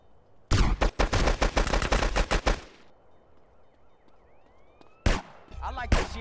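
Gunfire in GTA San Andreas comes in a loud, rapid automatic burst lasting about two seconds, then a quieter lull, then another brief volley of shots.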